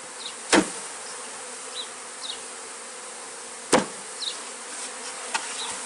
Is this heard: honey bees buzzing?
yes